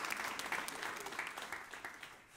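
Church audience applauding together, a dense, steady wash of hand claps filling the whole stretch at moderate volume with no voices over it.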